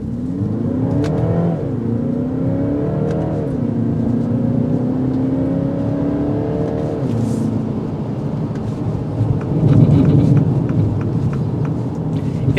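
A 2023 Mini Cooper Countryman engine accelerates in manual mode, its revs climbing in clear stepped pulls with pauses at each upshift, heard loudly from inside the cabin with no talking.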